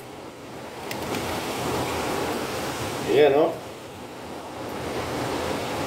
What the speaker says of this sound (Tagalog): Ganito yung bagyo. Bagyo sa Macau.